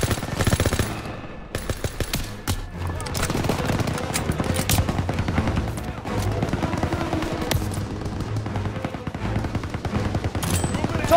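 Sustained MG-42 machine gun fire in the World War II shooter Call of Duty WW2, dense rapid bursts with booming impacts filling the whole stretch at close, loud range, with battlefield shouting mixed underneath.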